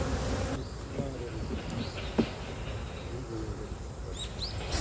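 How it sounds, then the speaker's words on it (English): Honeybees buzz steadily and close during autumn beekeeping in a rural Japanese village, a continuous drone with individual bees whining past, and faint bird calls in the background. "coming to observe the process of looking after the bees in the autumn"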